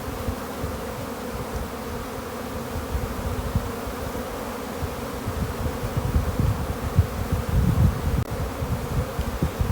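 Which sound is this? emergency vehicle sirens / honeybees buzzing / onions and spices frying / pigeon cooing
honeybees buzzing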